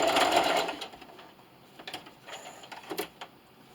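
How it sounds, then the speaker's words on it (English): A sewing machine backstitches in a short burst of rapid mechanical stitching that stops abruptly, followed by faint clicks and handling noises. "I'm going to backstitch all the way back."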